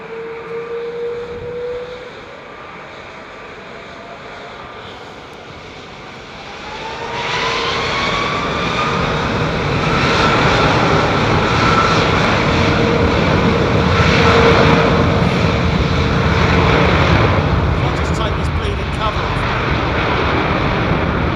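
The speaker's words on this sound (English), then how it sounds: "Listen to those engines vibrating." An Angolan Boeing 777-300 jet at Heathrow Airport with its engines droning, starting quieter and then swelling into a loud, sustained roar with a rising whine, close by and steady.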